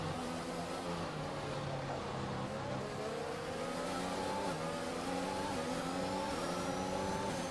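A Formula 1 car engine in the F1 2021 racing game at the Dutch Grand Prix, a high whining note climbing steadily through the gears as the car accelerates down a straight, loud and sustained with no voices.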